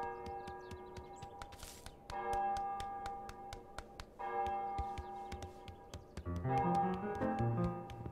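A bell ringing in Untitled Goose Game, a series of bright tolling strikes that each ring out and decay, layered over light ticking, with a fuller cluster of chimes toward the end.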